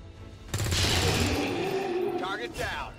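Gunfire in the XCOM 2 video game: a rapid burst of automatic shots, loud and close, rattling for about two seconds before trailing off into mechanical clatter.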